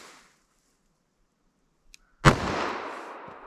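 A .357 Magnum revolver with a 4-inch barrel fires a single loud shot during a ballistic test, a sharp crack after near silence followed by a lingering reverberant tail.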